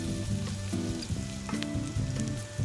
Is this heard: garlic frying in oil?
yes